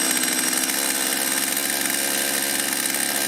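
A small two-stroke chainsaw runs steadily at a fast idle with its chain spinning while the carburetor idle screw is turned in, a continuous loud buzzing drone with no pauses or talk.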